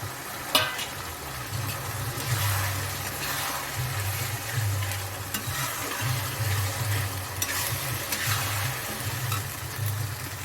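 Tomato being added to ground chilli, ginger, garlic and cumin paste frying in oil in a pan, a steady low sizzle with occasional stirring scrapes and clinks throughout, no talking.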